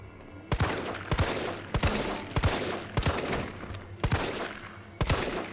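Gunfire in the Resident Evil 3 Remake, a steady string of sharp, loud shots fired about twice a second, each with a bright crack and a brief echoing tail, close and without talk.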